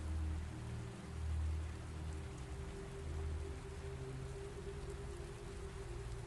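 Steady rain falls throughout, a dense even patter with a low rumbling undertone that swells and eases slightly, continuous and close with no voices.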